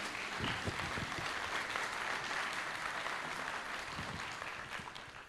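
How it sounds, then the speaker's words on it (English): An audience at a human trafficking forum applauds panelists, a steady, moderately distant wash of clapping lasting several seconds that tapers off at the end. "Let's give them all a round of applause for being here tonight."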